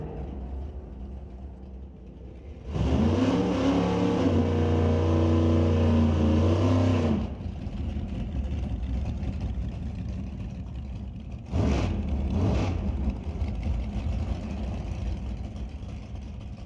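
Old nostalgia gas drag cars at a Langley old-time drags night rev loudly for several seconds with a harsh, rich engine roar, then drop to a lower background rumble before another short pair of blips.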